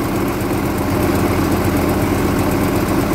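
A telescopic boom lowers slowly while its engine runs weakly with a clogged filter removed, giving a loud, steady low rumble and vibration throughout, with no break.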